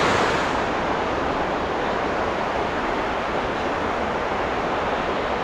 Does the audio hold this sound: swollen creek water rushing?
yes